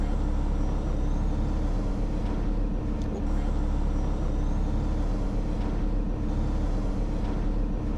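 A heavy truck hauling a trailer loaded with a new Cat 772 pulls forward, its engine a constant loud low rumble from inside the cab, with faint rattles above it.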